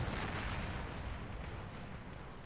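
A bomb explodes in Resident Evil Revelations, a loud, broad rumbling blast that fills the clip and slowly fades as it rolls on.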